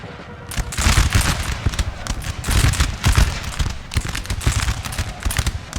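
Ragged musket volleys crackle from massed line infantry in a Napoleonic-era Ottoman battle in Napoleon Total War, a dense run of overlapping shots in several loud bursts with no talk.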